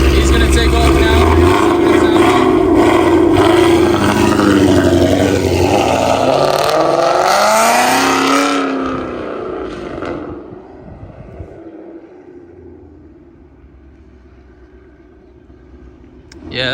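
A Ford Mustang with a loud Borla exhaust roars hard as it takes off, a dense, raspy blast that holds for several seconds, then fades quickly into the distance, leaving quiet ambience.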